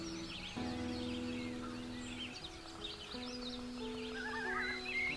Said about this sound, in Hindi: मेरे सुंदर घोड़े,